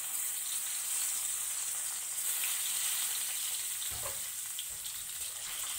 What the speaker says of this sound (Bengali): ডিমগুলিকে এবার ভেজে নেব